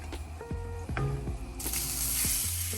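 Beef strips dropped into a hot pan with avocado oil, giving a loud, close, continuous hiss that swells into a broad, bright sizzle about halfway through, with a few soft pan knocks and no talking.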